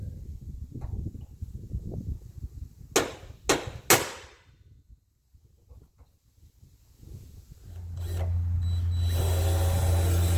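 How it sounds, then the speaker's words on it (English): A hammer strikes a center punch three times in quick succession to mark holes on a door post for a post latch eMullion. The taps are sharp and close, then a steady hum follows. "now we're going to center punch them so that we can drill them accurately."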